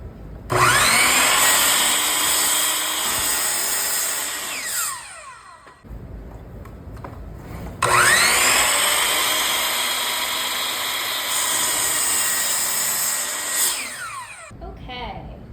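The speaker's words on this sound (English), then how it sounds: "And then we will get on to drilling the pocket holes." A power drill whirs loudly boring pocket holes in wood, in two long bursts, each running several seconds, with a brief pause between them as the motor spins down.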